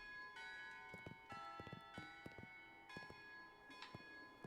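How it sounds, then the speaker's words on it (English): Cathedral bells ring in the video game Shadows Over Loathing, quiet, clear tolls struck in irregular clusters over a soft background, each chime ringing out with a sustained tone. "You hear the ringing of cathedral bells and turn to see their sounds"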